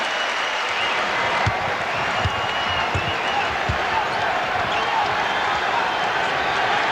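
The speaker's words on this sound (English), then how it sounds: "The crowd reacting to the Knicks play." A basketball arena crowd during a 1997 Bulls vs Knicks game gives a steady roar with scattered applause, a dense wash of noise with faint thumps underneath.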